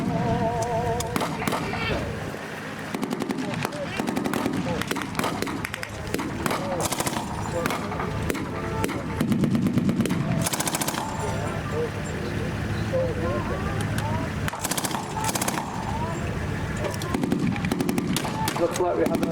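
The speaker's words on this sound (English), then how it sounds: "One of the locals has just been firing his AK-47." Bursts of AK-47 automatic fire during a wartime re-enactment battle, rapid loud rattling volleys and single cracks spread through, with shouting voices and outdoor commotion between and under the shots.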